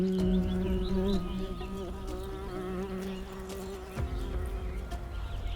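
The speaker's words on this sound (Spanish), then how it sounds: "El avispón emerge de su nido de papel, listo para sembrar el terror." A hornet emerges from its paper nest with a loud, steady, close insect buzz that rises and wavers in pitch, continuing unbroken throughout without any talking.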